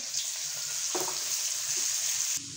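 Onions frying in oil in a pan, a steady close sizzle that runs through the whole stretch with a brief stir or clatter near the middle, and the sizzle drops off just before the end.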